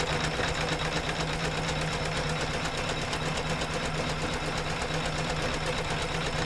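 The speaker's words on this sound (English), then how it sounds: "That's stitching really nicely though." An embroidery sewing machine stitches a quilt design with a rapid, steady mechanical chatter, close and continuous with no pauses.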